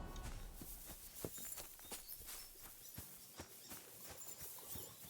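A horse in Kingdom Come: Deliverance II walks along, its hooves giving a steady, soft clip-clop of repeated near footfalls over quiet background ambience.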